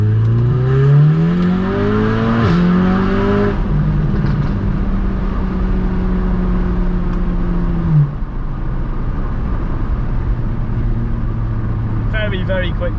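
A 530bhp VW Golf R accelerates hard with the engine note climbing through second gear. It drops at the shift into third and then keeps pulling loud and close, with some talking over it.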